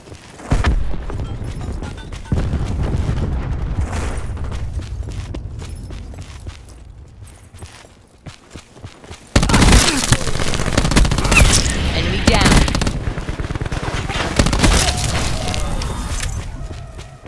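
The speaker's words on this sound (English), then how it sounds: "Throwing cluster grenade." Cluster grenade explosions in Black Ops 4 boom through heavy, continuous gunfire, dense and loud with rumbling bursts that grow stronger partway through.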